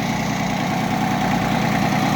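A Yanmar FB15D Japanese tractor engine idles close by, giving a steady, even diesel rumble with constant vibration and no pauses.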